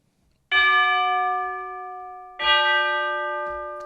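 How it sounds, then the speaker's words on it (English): Two long sampled tubular bell strikes from a virtual orchestral instrument, each ringing out bright and sustained, the second overlapping the fading first. "Tubular bells."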